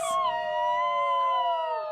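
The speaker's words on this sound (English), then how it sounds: "And dogs have been howling, so that's funny too." A single dog howls loudly and close by in a long, wavering, sustained tone that slowly falls in pitch, heard during a neighbourhood howling chorus with no one talking.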